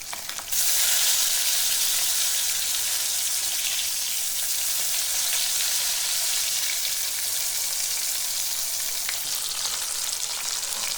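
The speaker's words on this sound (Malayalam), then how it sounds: "വെളിച്ചെണ്ണയിലാണ് കഷ്ണങ്ങൾ, ഒരു 4 കഷ്ണം ആദ്യം ഇട്ട് കൊടുത്തു." Pieces of Thinda fish fry in hot coconut oil, a loud, steady, crackling sizzle that jumps in at the start and holds evenly throughout, close up and without talk.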